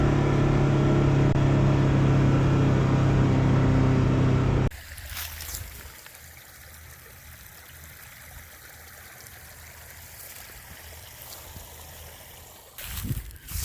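Water pours and trickles steadily through a ditch into a duck impoundment pond, a loud rushing flow at first that drops to a quieter, continuous trickle.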